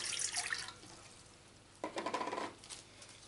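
Lukewarm water poured into a bowl of flour, a brief splashing burst near the middle that fades, close and fairly quiet with a faint hiss before it.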